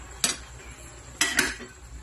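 Moringa leaves stirred in a cooking pan while sautéing vegetables: a spoon scrapes and clinks against the pan in three sharp bursts, one near the start and two close together later, heard close and alone.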